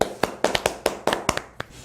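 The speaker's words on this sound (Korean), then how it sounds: "뜨거운 박수 주세요." A few people clap loosely at a workplace sexual harassment prevention training session as the lecturer is introduced, scattered uneven claps lasting under two seconds with no talking over them.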